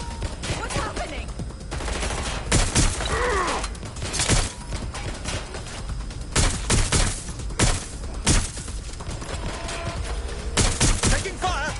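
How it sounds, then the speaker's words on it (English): Repeated loud bursts of gunfire in the Ex ZerØ video game, a dense fusillade of shots arriving in clustered volleys with brief pauses between them and voices faintly underneath. "Shots fired! Taking fire!"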